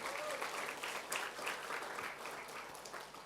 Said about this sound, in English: Another round of applause for Atomy